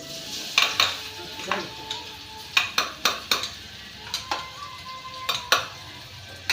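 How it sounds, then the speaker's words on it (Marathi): Finely chopped garlic fries in hot oil with turmeric and salt, crackling and sizzling up close while a spoon repeatedly scrapes and knocks against the pan in an uneven rhythm, no one speaking. "लसूण घातलाय भाजायला मस्त पैकी."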